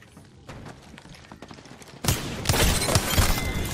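Gunfire rings out in an Apex Legends match: quieter scattered shots at first, then a loud burst of rapid shots and impacts that keeps going, with no voices.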